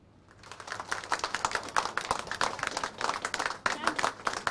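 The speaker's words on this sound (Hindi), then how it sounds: "तालियों की गड़गड़ाहट के साथ" Applause greets IAS Pawan Arora as he takes charge as CEO and managing editor at First India, a dense clapping burst that swells after a quiet start and continues steadily, with voices mixed in.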